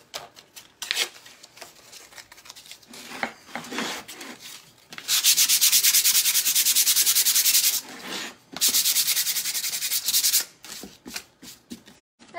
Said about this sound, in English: I'm gonna give this a little bit of a light sand again.